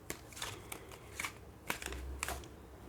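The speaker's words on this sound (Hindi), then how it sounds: "मैं थोड़े कार्ड्स को शिफ्ट कर दे रही हूँ" Tarot cards are handled and shuffled in a quiet room, giving a series of crisp, close flicks and snaps in irregular bursts, with no one speaking.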